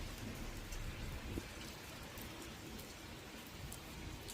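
Steady rain falling in Liechtenstein, a dense continuous hiss of drops on surfaces with faint occasional splashes and a low distant rumble, with no voices.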